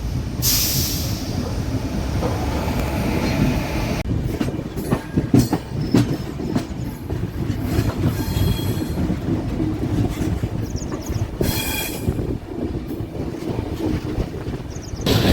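A Tirumala Express passenger train runs on the Kadapa to Guntakal line, with a loud, continuous rumble and rhythmic clickety-clack of wheels on rails heard from on board, plus occasional brief squeals.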